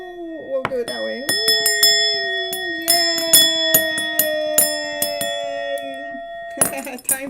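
A bell rings over and over in rapid, uneven strikes, with bright metallic clinks under a sustained tonal hum, and a brief burst of ringing at the very end.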